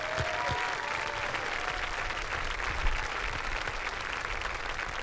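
An audience at a 2022 senior awards ceremony applauds a group of graduating seniors, steady even clapping from a fairly distant crowd that continues throughout without speech.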